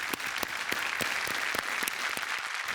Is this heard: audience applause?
yes